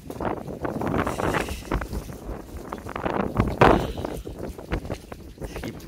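Wind blowing at the Malampuzha Dam viewpoint in Kerala buffets the microphone in gusts, making a steady low rumble and rushing noise throughout, with no talking.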